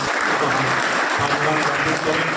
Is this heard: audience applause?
yes